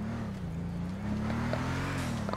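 A Bugatti Chiron's engine drones steadily while driving in the video game GTA 5, a continuous low hum with slight pitch rise, moderately loud and alone.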